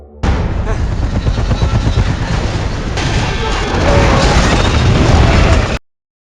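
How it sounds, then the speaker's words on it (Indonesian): A loud, sustained crashing roar of an aircraft hitting the ground, dense rumbling debris and impacts continuing for several seconds before cutting off abruptly. "setelah pesawat itu menghantam daratan"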